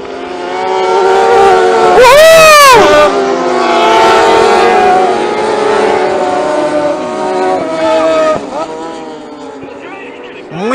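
MotoAmerica race motorcycles at Road Atlanta in 2016 scream past one after another, one roaring close by with a sharp pitch drop, then a loud sustained engine wail and a later pass, with spectators talking nearby.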